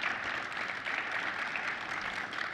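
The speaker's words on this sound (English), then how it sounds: "Give them a round of applause, please." An audience applauds steadily for a few seconds at the close of a general session of the USBevX 2016 beverage conference, a dense wash of many clapping hands with no talk.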